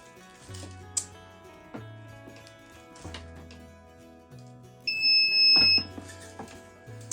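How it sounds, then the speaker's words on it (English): An egg incubator gives a short, clear electronic beep tone as it is switched on, amid soft clicks and low hum, with intermittent background tones. "It beeps when it is first turned on"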